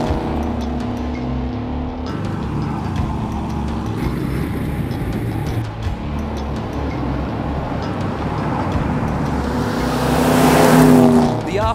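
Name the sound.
Ford Falcon GTHO cars rumbling by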